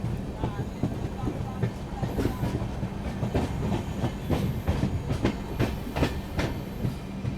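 The Poorvottar Sampark Kranti express runs through New Cooch Behar Junction without stopping. Rapid clickety-clack wheel beats over the rail joints and a steady rumble fill the carriage, heard from onboard.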